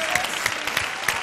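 Studio audience applause on a televised dance show, a brief loud burst of steady clapping from a crowd with a few crisp claps standing out.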